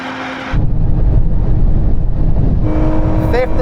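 Lotus Emira sports car accelerating hard through its gears in a drag race, a loud close engine roar that rises, drops at a shift and climbs again near the end.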